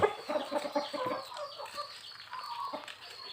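Chicks cluck and peep in a busy, overlapping chorus, fairly close, with small bird calls scattered throughout.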